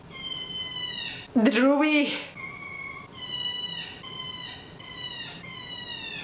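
A house cat cries with one long, loud, rising meow, followed by a steady series of shorter high-pitched meows close to the microphone, while someone speaks briefly.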